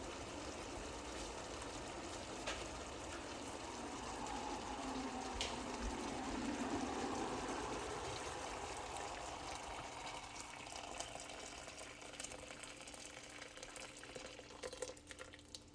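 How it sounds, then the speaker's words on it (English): Water pours steadily into a pot for tomato egg drop soup, a soft, continuous splashing stream that lasts throughout and stays fairly quiet. "And now you're gonna put the water in."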